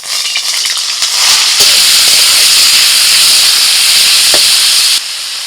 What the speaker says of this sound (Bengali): কড়াই তেল দিয়ে দিয়েছি, এবার হোপাগুলো ভেজে নেব।